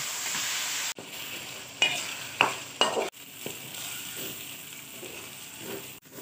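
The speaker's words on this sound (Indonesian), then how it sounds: "tumis bumbu dengan minyak secukupnya. Aduk-aduk-aduk, sampai berubah warna" Spice paste for chicken rendang sizzles and fries in oil while a spoon stirs it, a steady close crackle broken by a few sharper scraping strokes.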